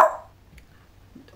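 A small dog gives a single short bark up close at the very start, followed by near silence with faint room noise.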